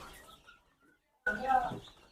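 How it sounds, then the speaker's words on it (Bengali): Five-day-old chicks give a few thin chirps at first, then a burst of busy, overlapping cheeping and clucking after a short quiet pause. "সব বয়সের মুরগির বাচ্চা রয়েছে"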